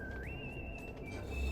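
A thin electronic whistle from a background music track holds one tone, steps up in pitch early on and then holds again, quiet over a low rumble.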